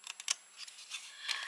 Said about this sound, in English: Then we're going to cut away.